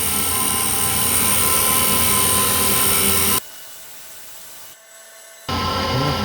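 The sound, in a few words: custom form tool cutting on a machine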